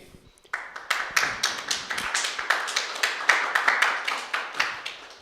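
An audience applauds after a talk, clapping starting abruptly and rising into a steady, fairly close round of many hands that continues to the end.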